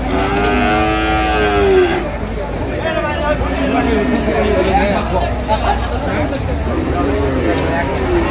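Loud, drawn-out moos from Sahiwal bulls rise repeatedly over a background of people chatting at a crowded cattle market in Dinajpur.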